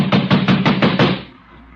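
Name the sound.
banging on a door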